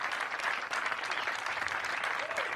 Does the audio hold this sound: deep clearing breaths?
no